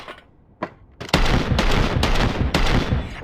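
Pistol shots ring out in the VR game Hard Bullet: two sharp single shots, then a rapid burst of loud, close shots fired in quick succession.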